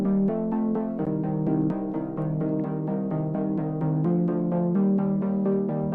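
Synth chords play in a steady rhythmic pattern, each chord pulsing repeatedly with bright harmonic tones, loud and alone throughout without voices.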